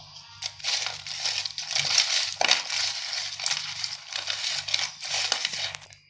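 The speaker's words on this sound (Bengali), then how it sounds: "সুন্দর করে একটা একটা করে ধরে মাছে নুন হলুদ করে মাখতে হবে" Raw prawns are rubbed by hand with salt and turmeric, giving close, soft squelching and crinkling in irregular bursts, alone and fairly quiet.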